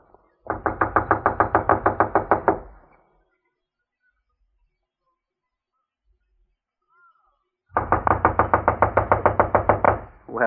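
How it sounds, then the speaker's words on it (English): Knocking on the door of a run-down, long-unoccupied house in a radio mystery drama: two loud bursts of rapid, evenly spaced knocks, each lasting about two seconds, separated by a long silence. "I'll knock."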